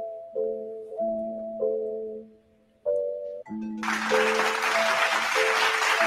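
An audience applause effect on a golf podcast: a few chiming electronic tones, then a sustained burst of clapping that runs to the end.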